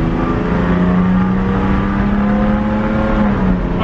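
A Ford Ranger truck with a 3.0L V6 accelerates, giving a loud, steady engine drone with a rising tone, heard close from inside the cab with no voices.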